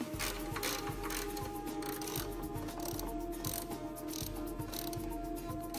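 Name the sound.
ratchet tightening shock mounting bolts on Porsche Cayenne suspension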